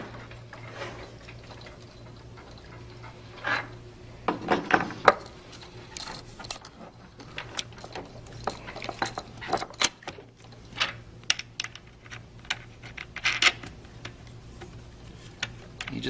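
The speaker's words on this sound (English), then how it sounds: "we're going to put a couple of bolts in and just engage them enough to get a couple threads in" Bolts threaded onto the plastic liquid chamber of a Wilden pump give scattered small metallic clicks, ticks and clinks, irregular and close, over a faint steady hum.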